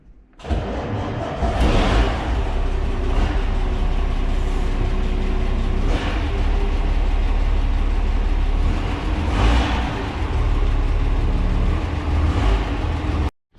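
Mercedes O302 bus engine starts abruptly, then runs steadily with a loud, deep rumble and occasional swells before cutting off.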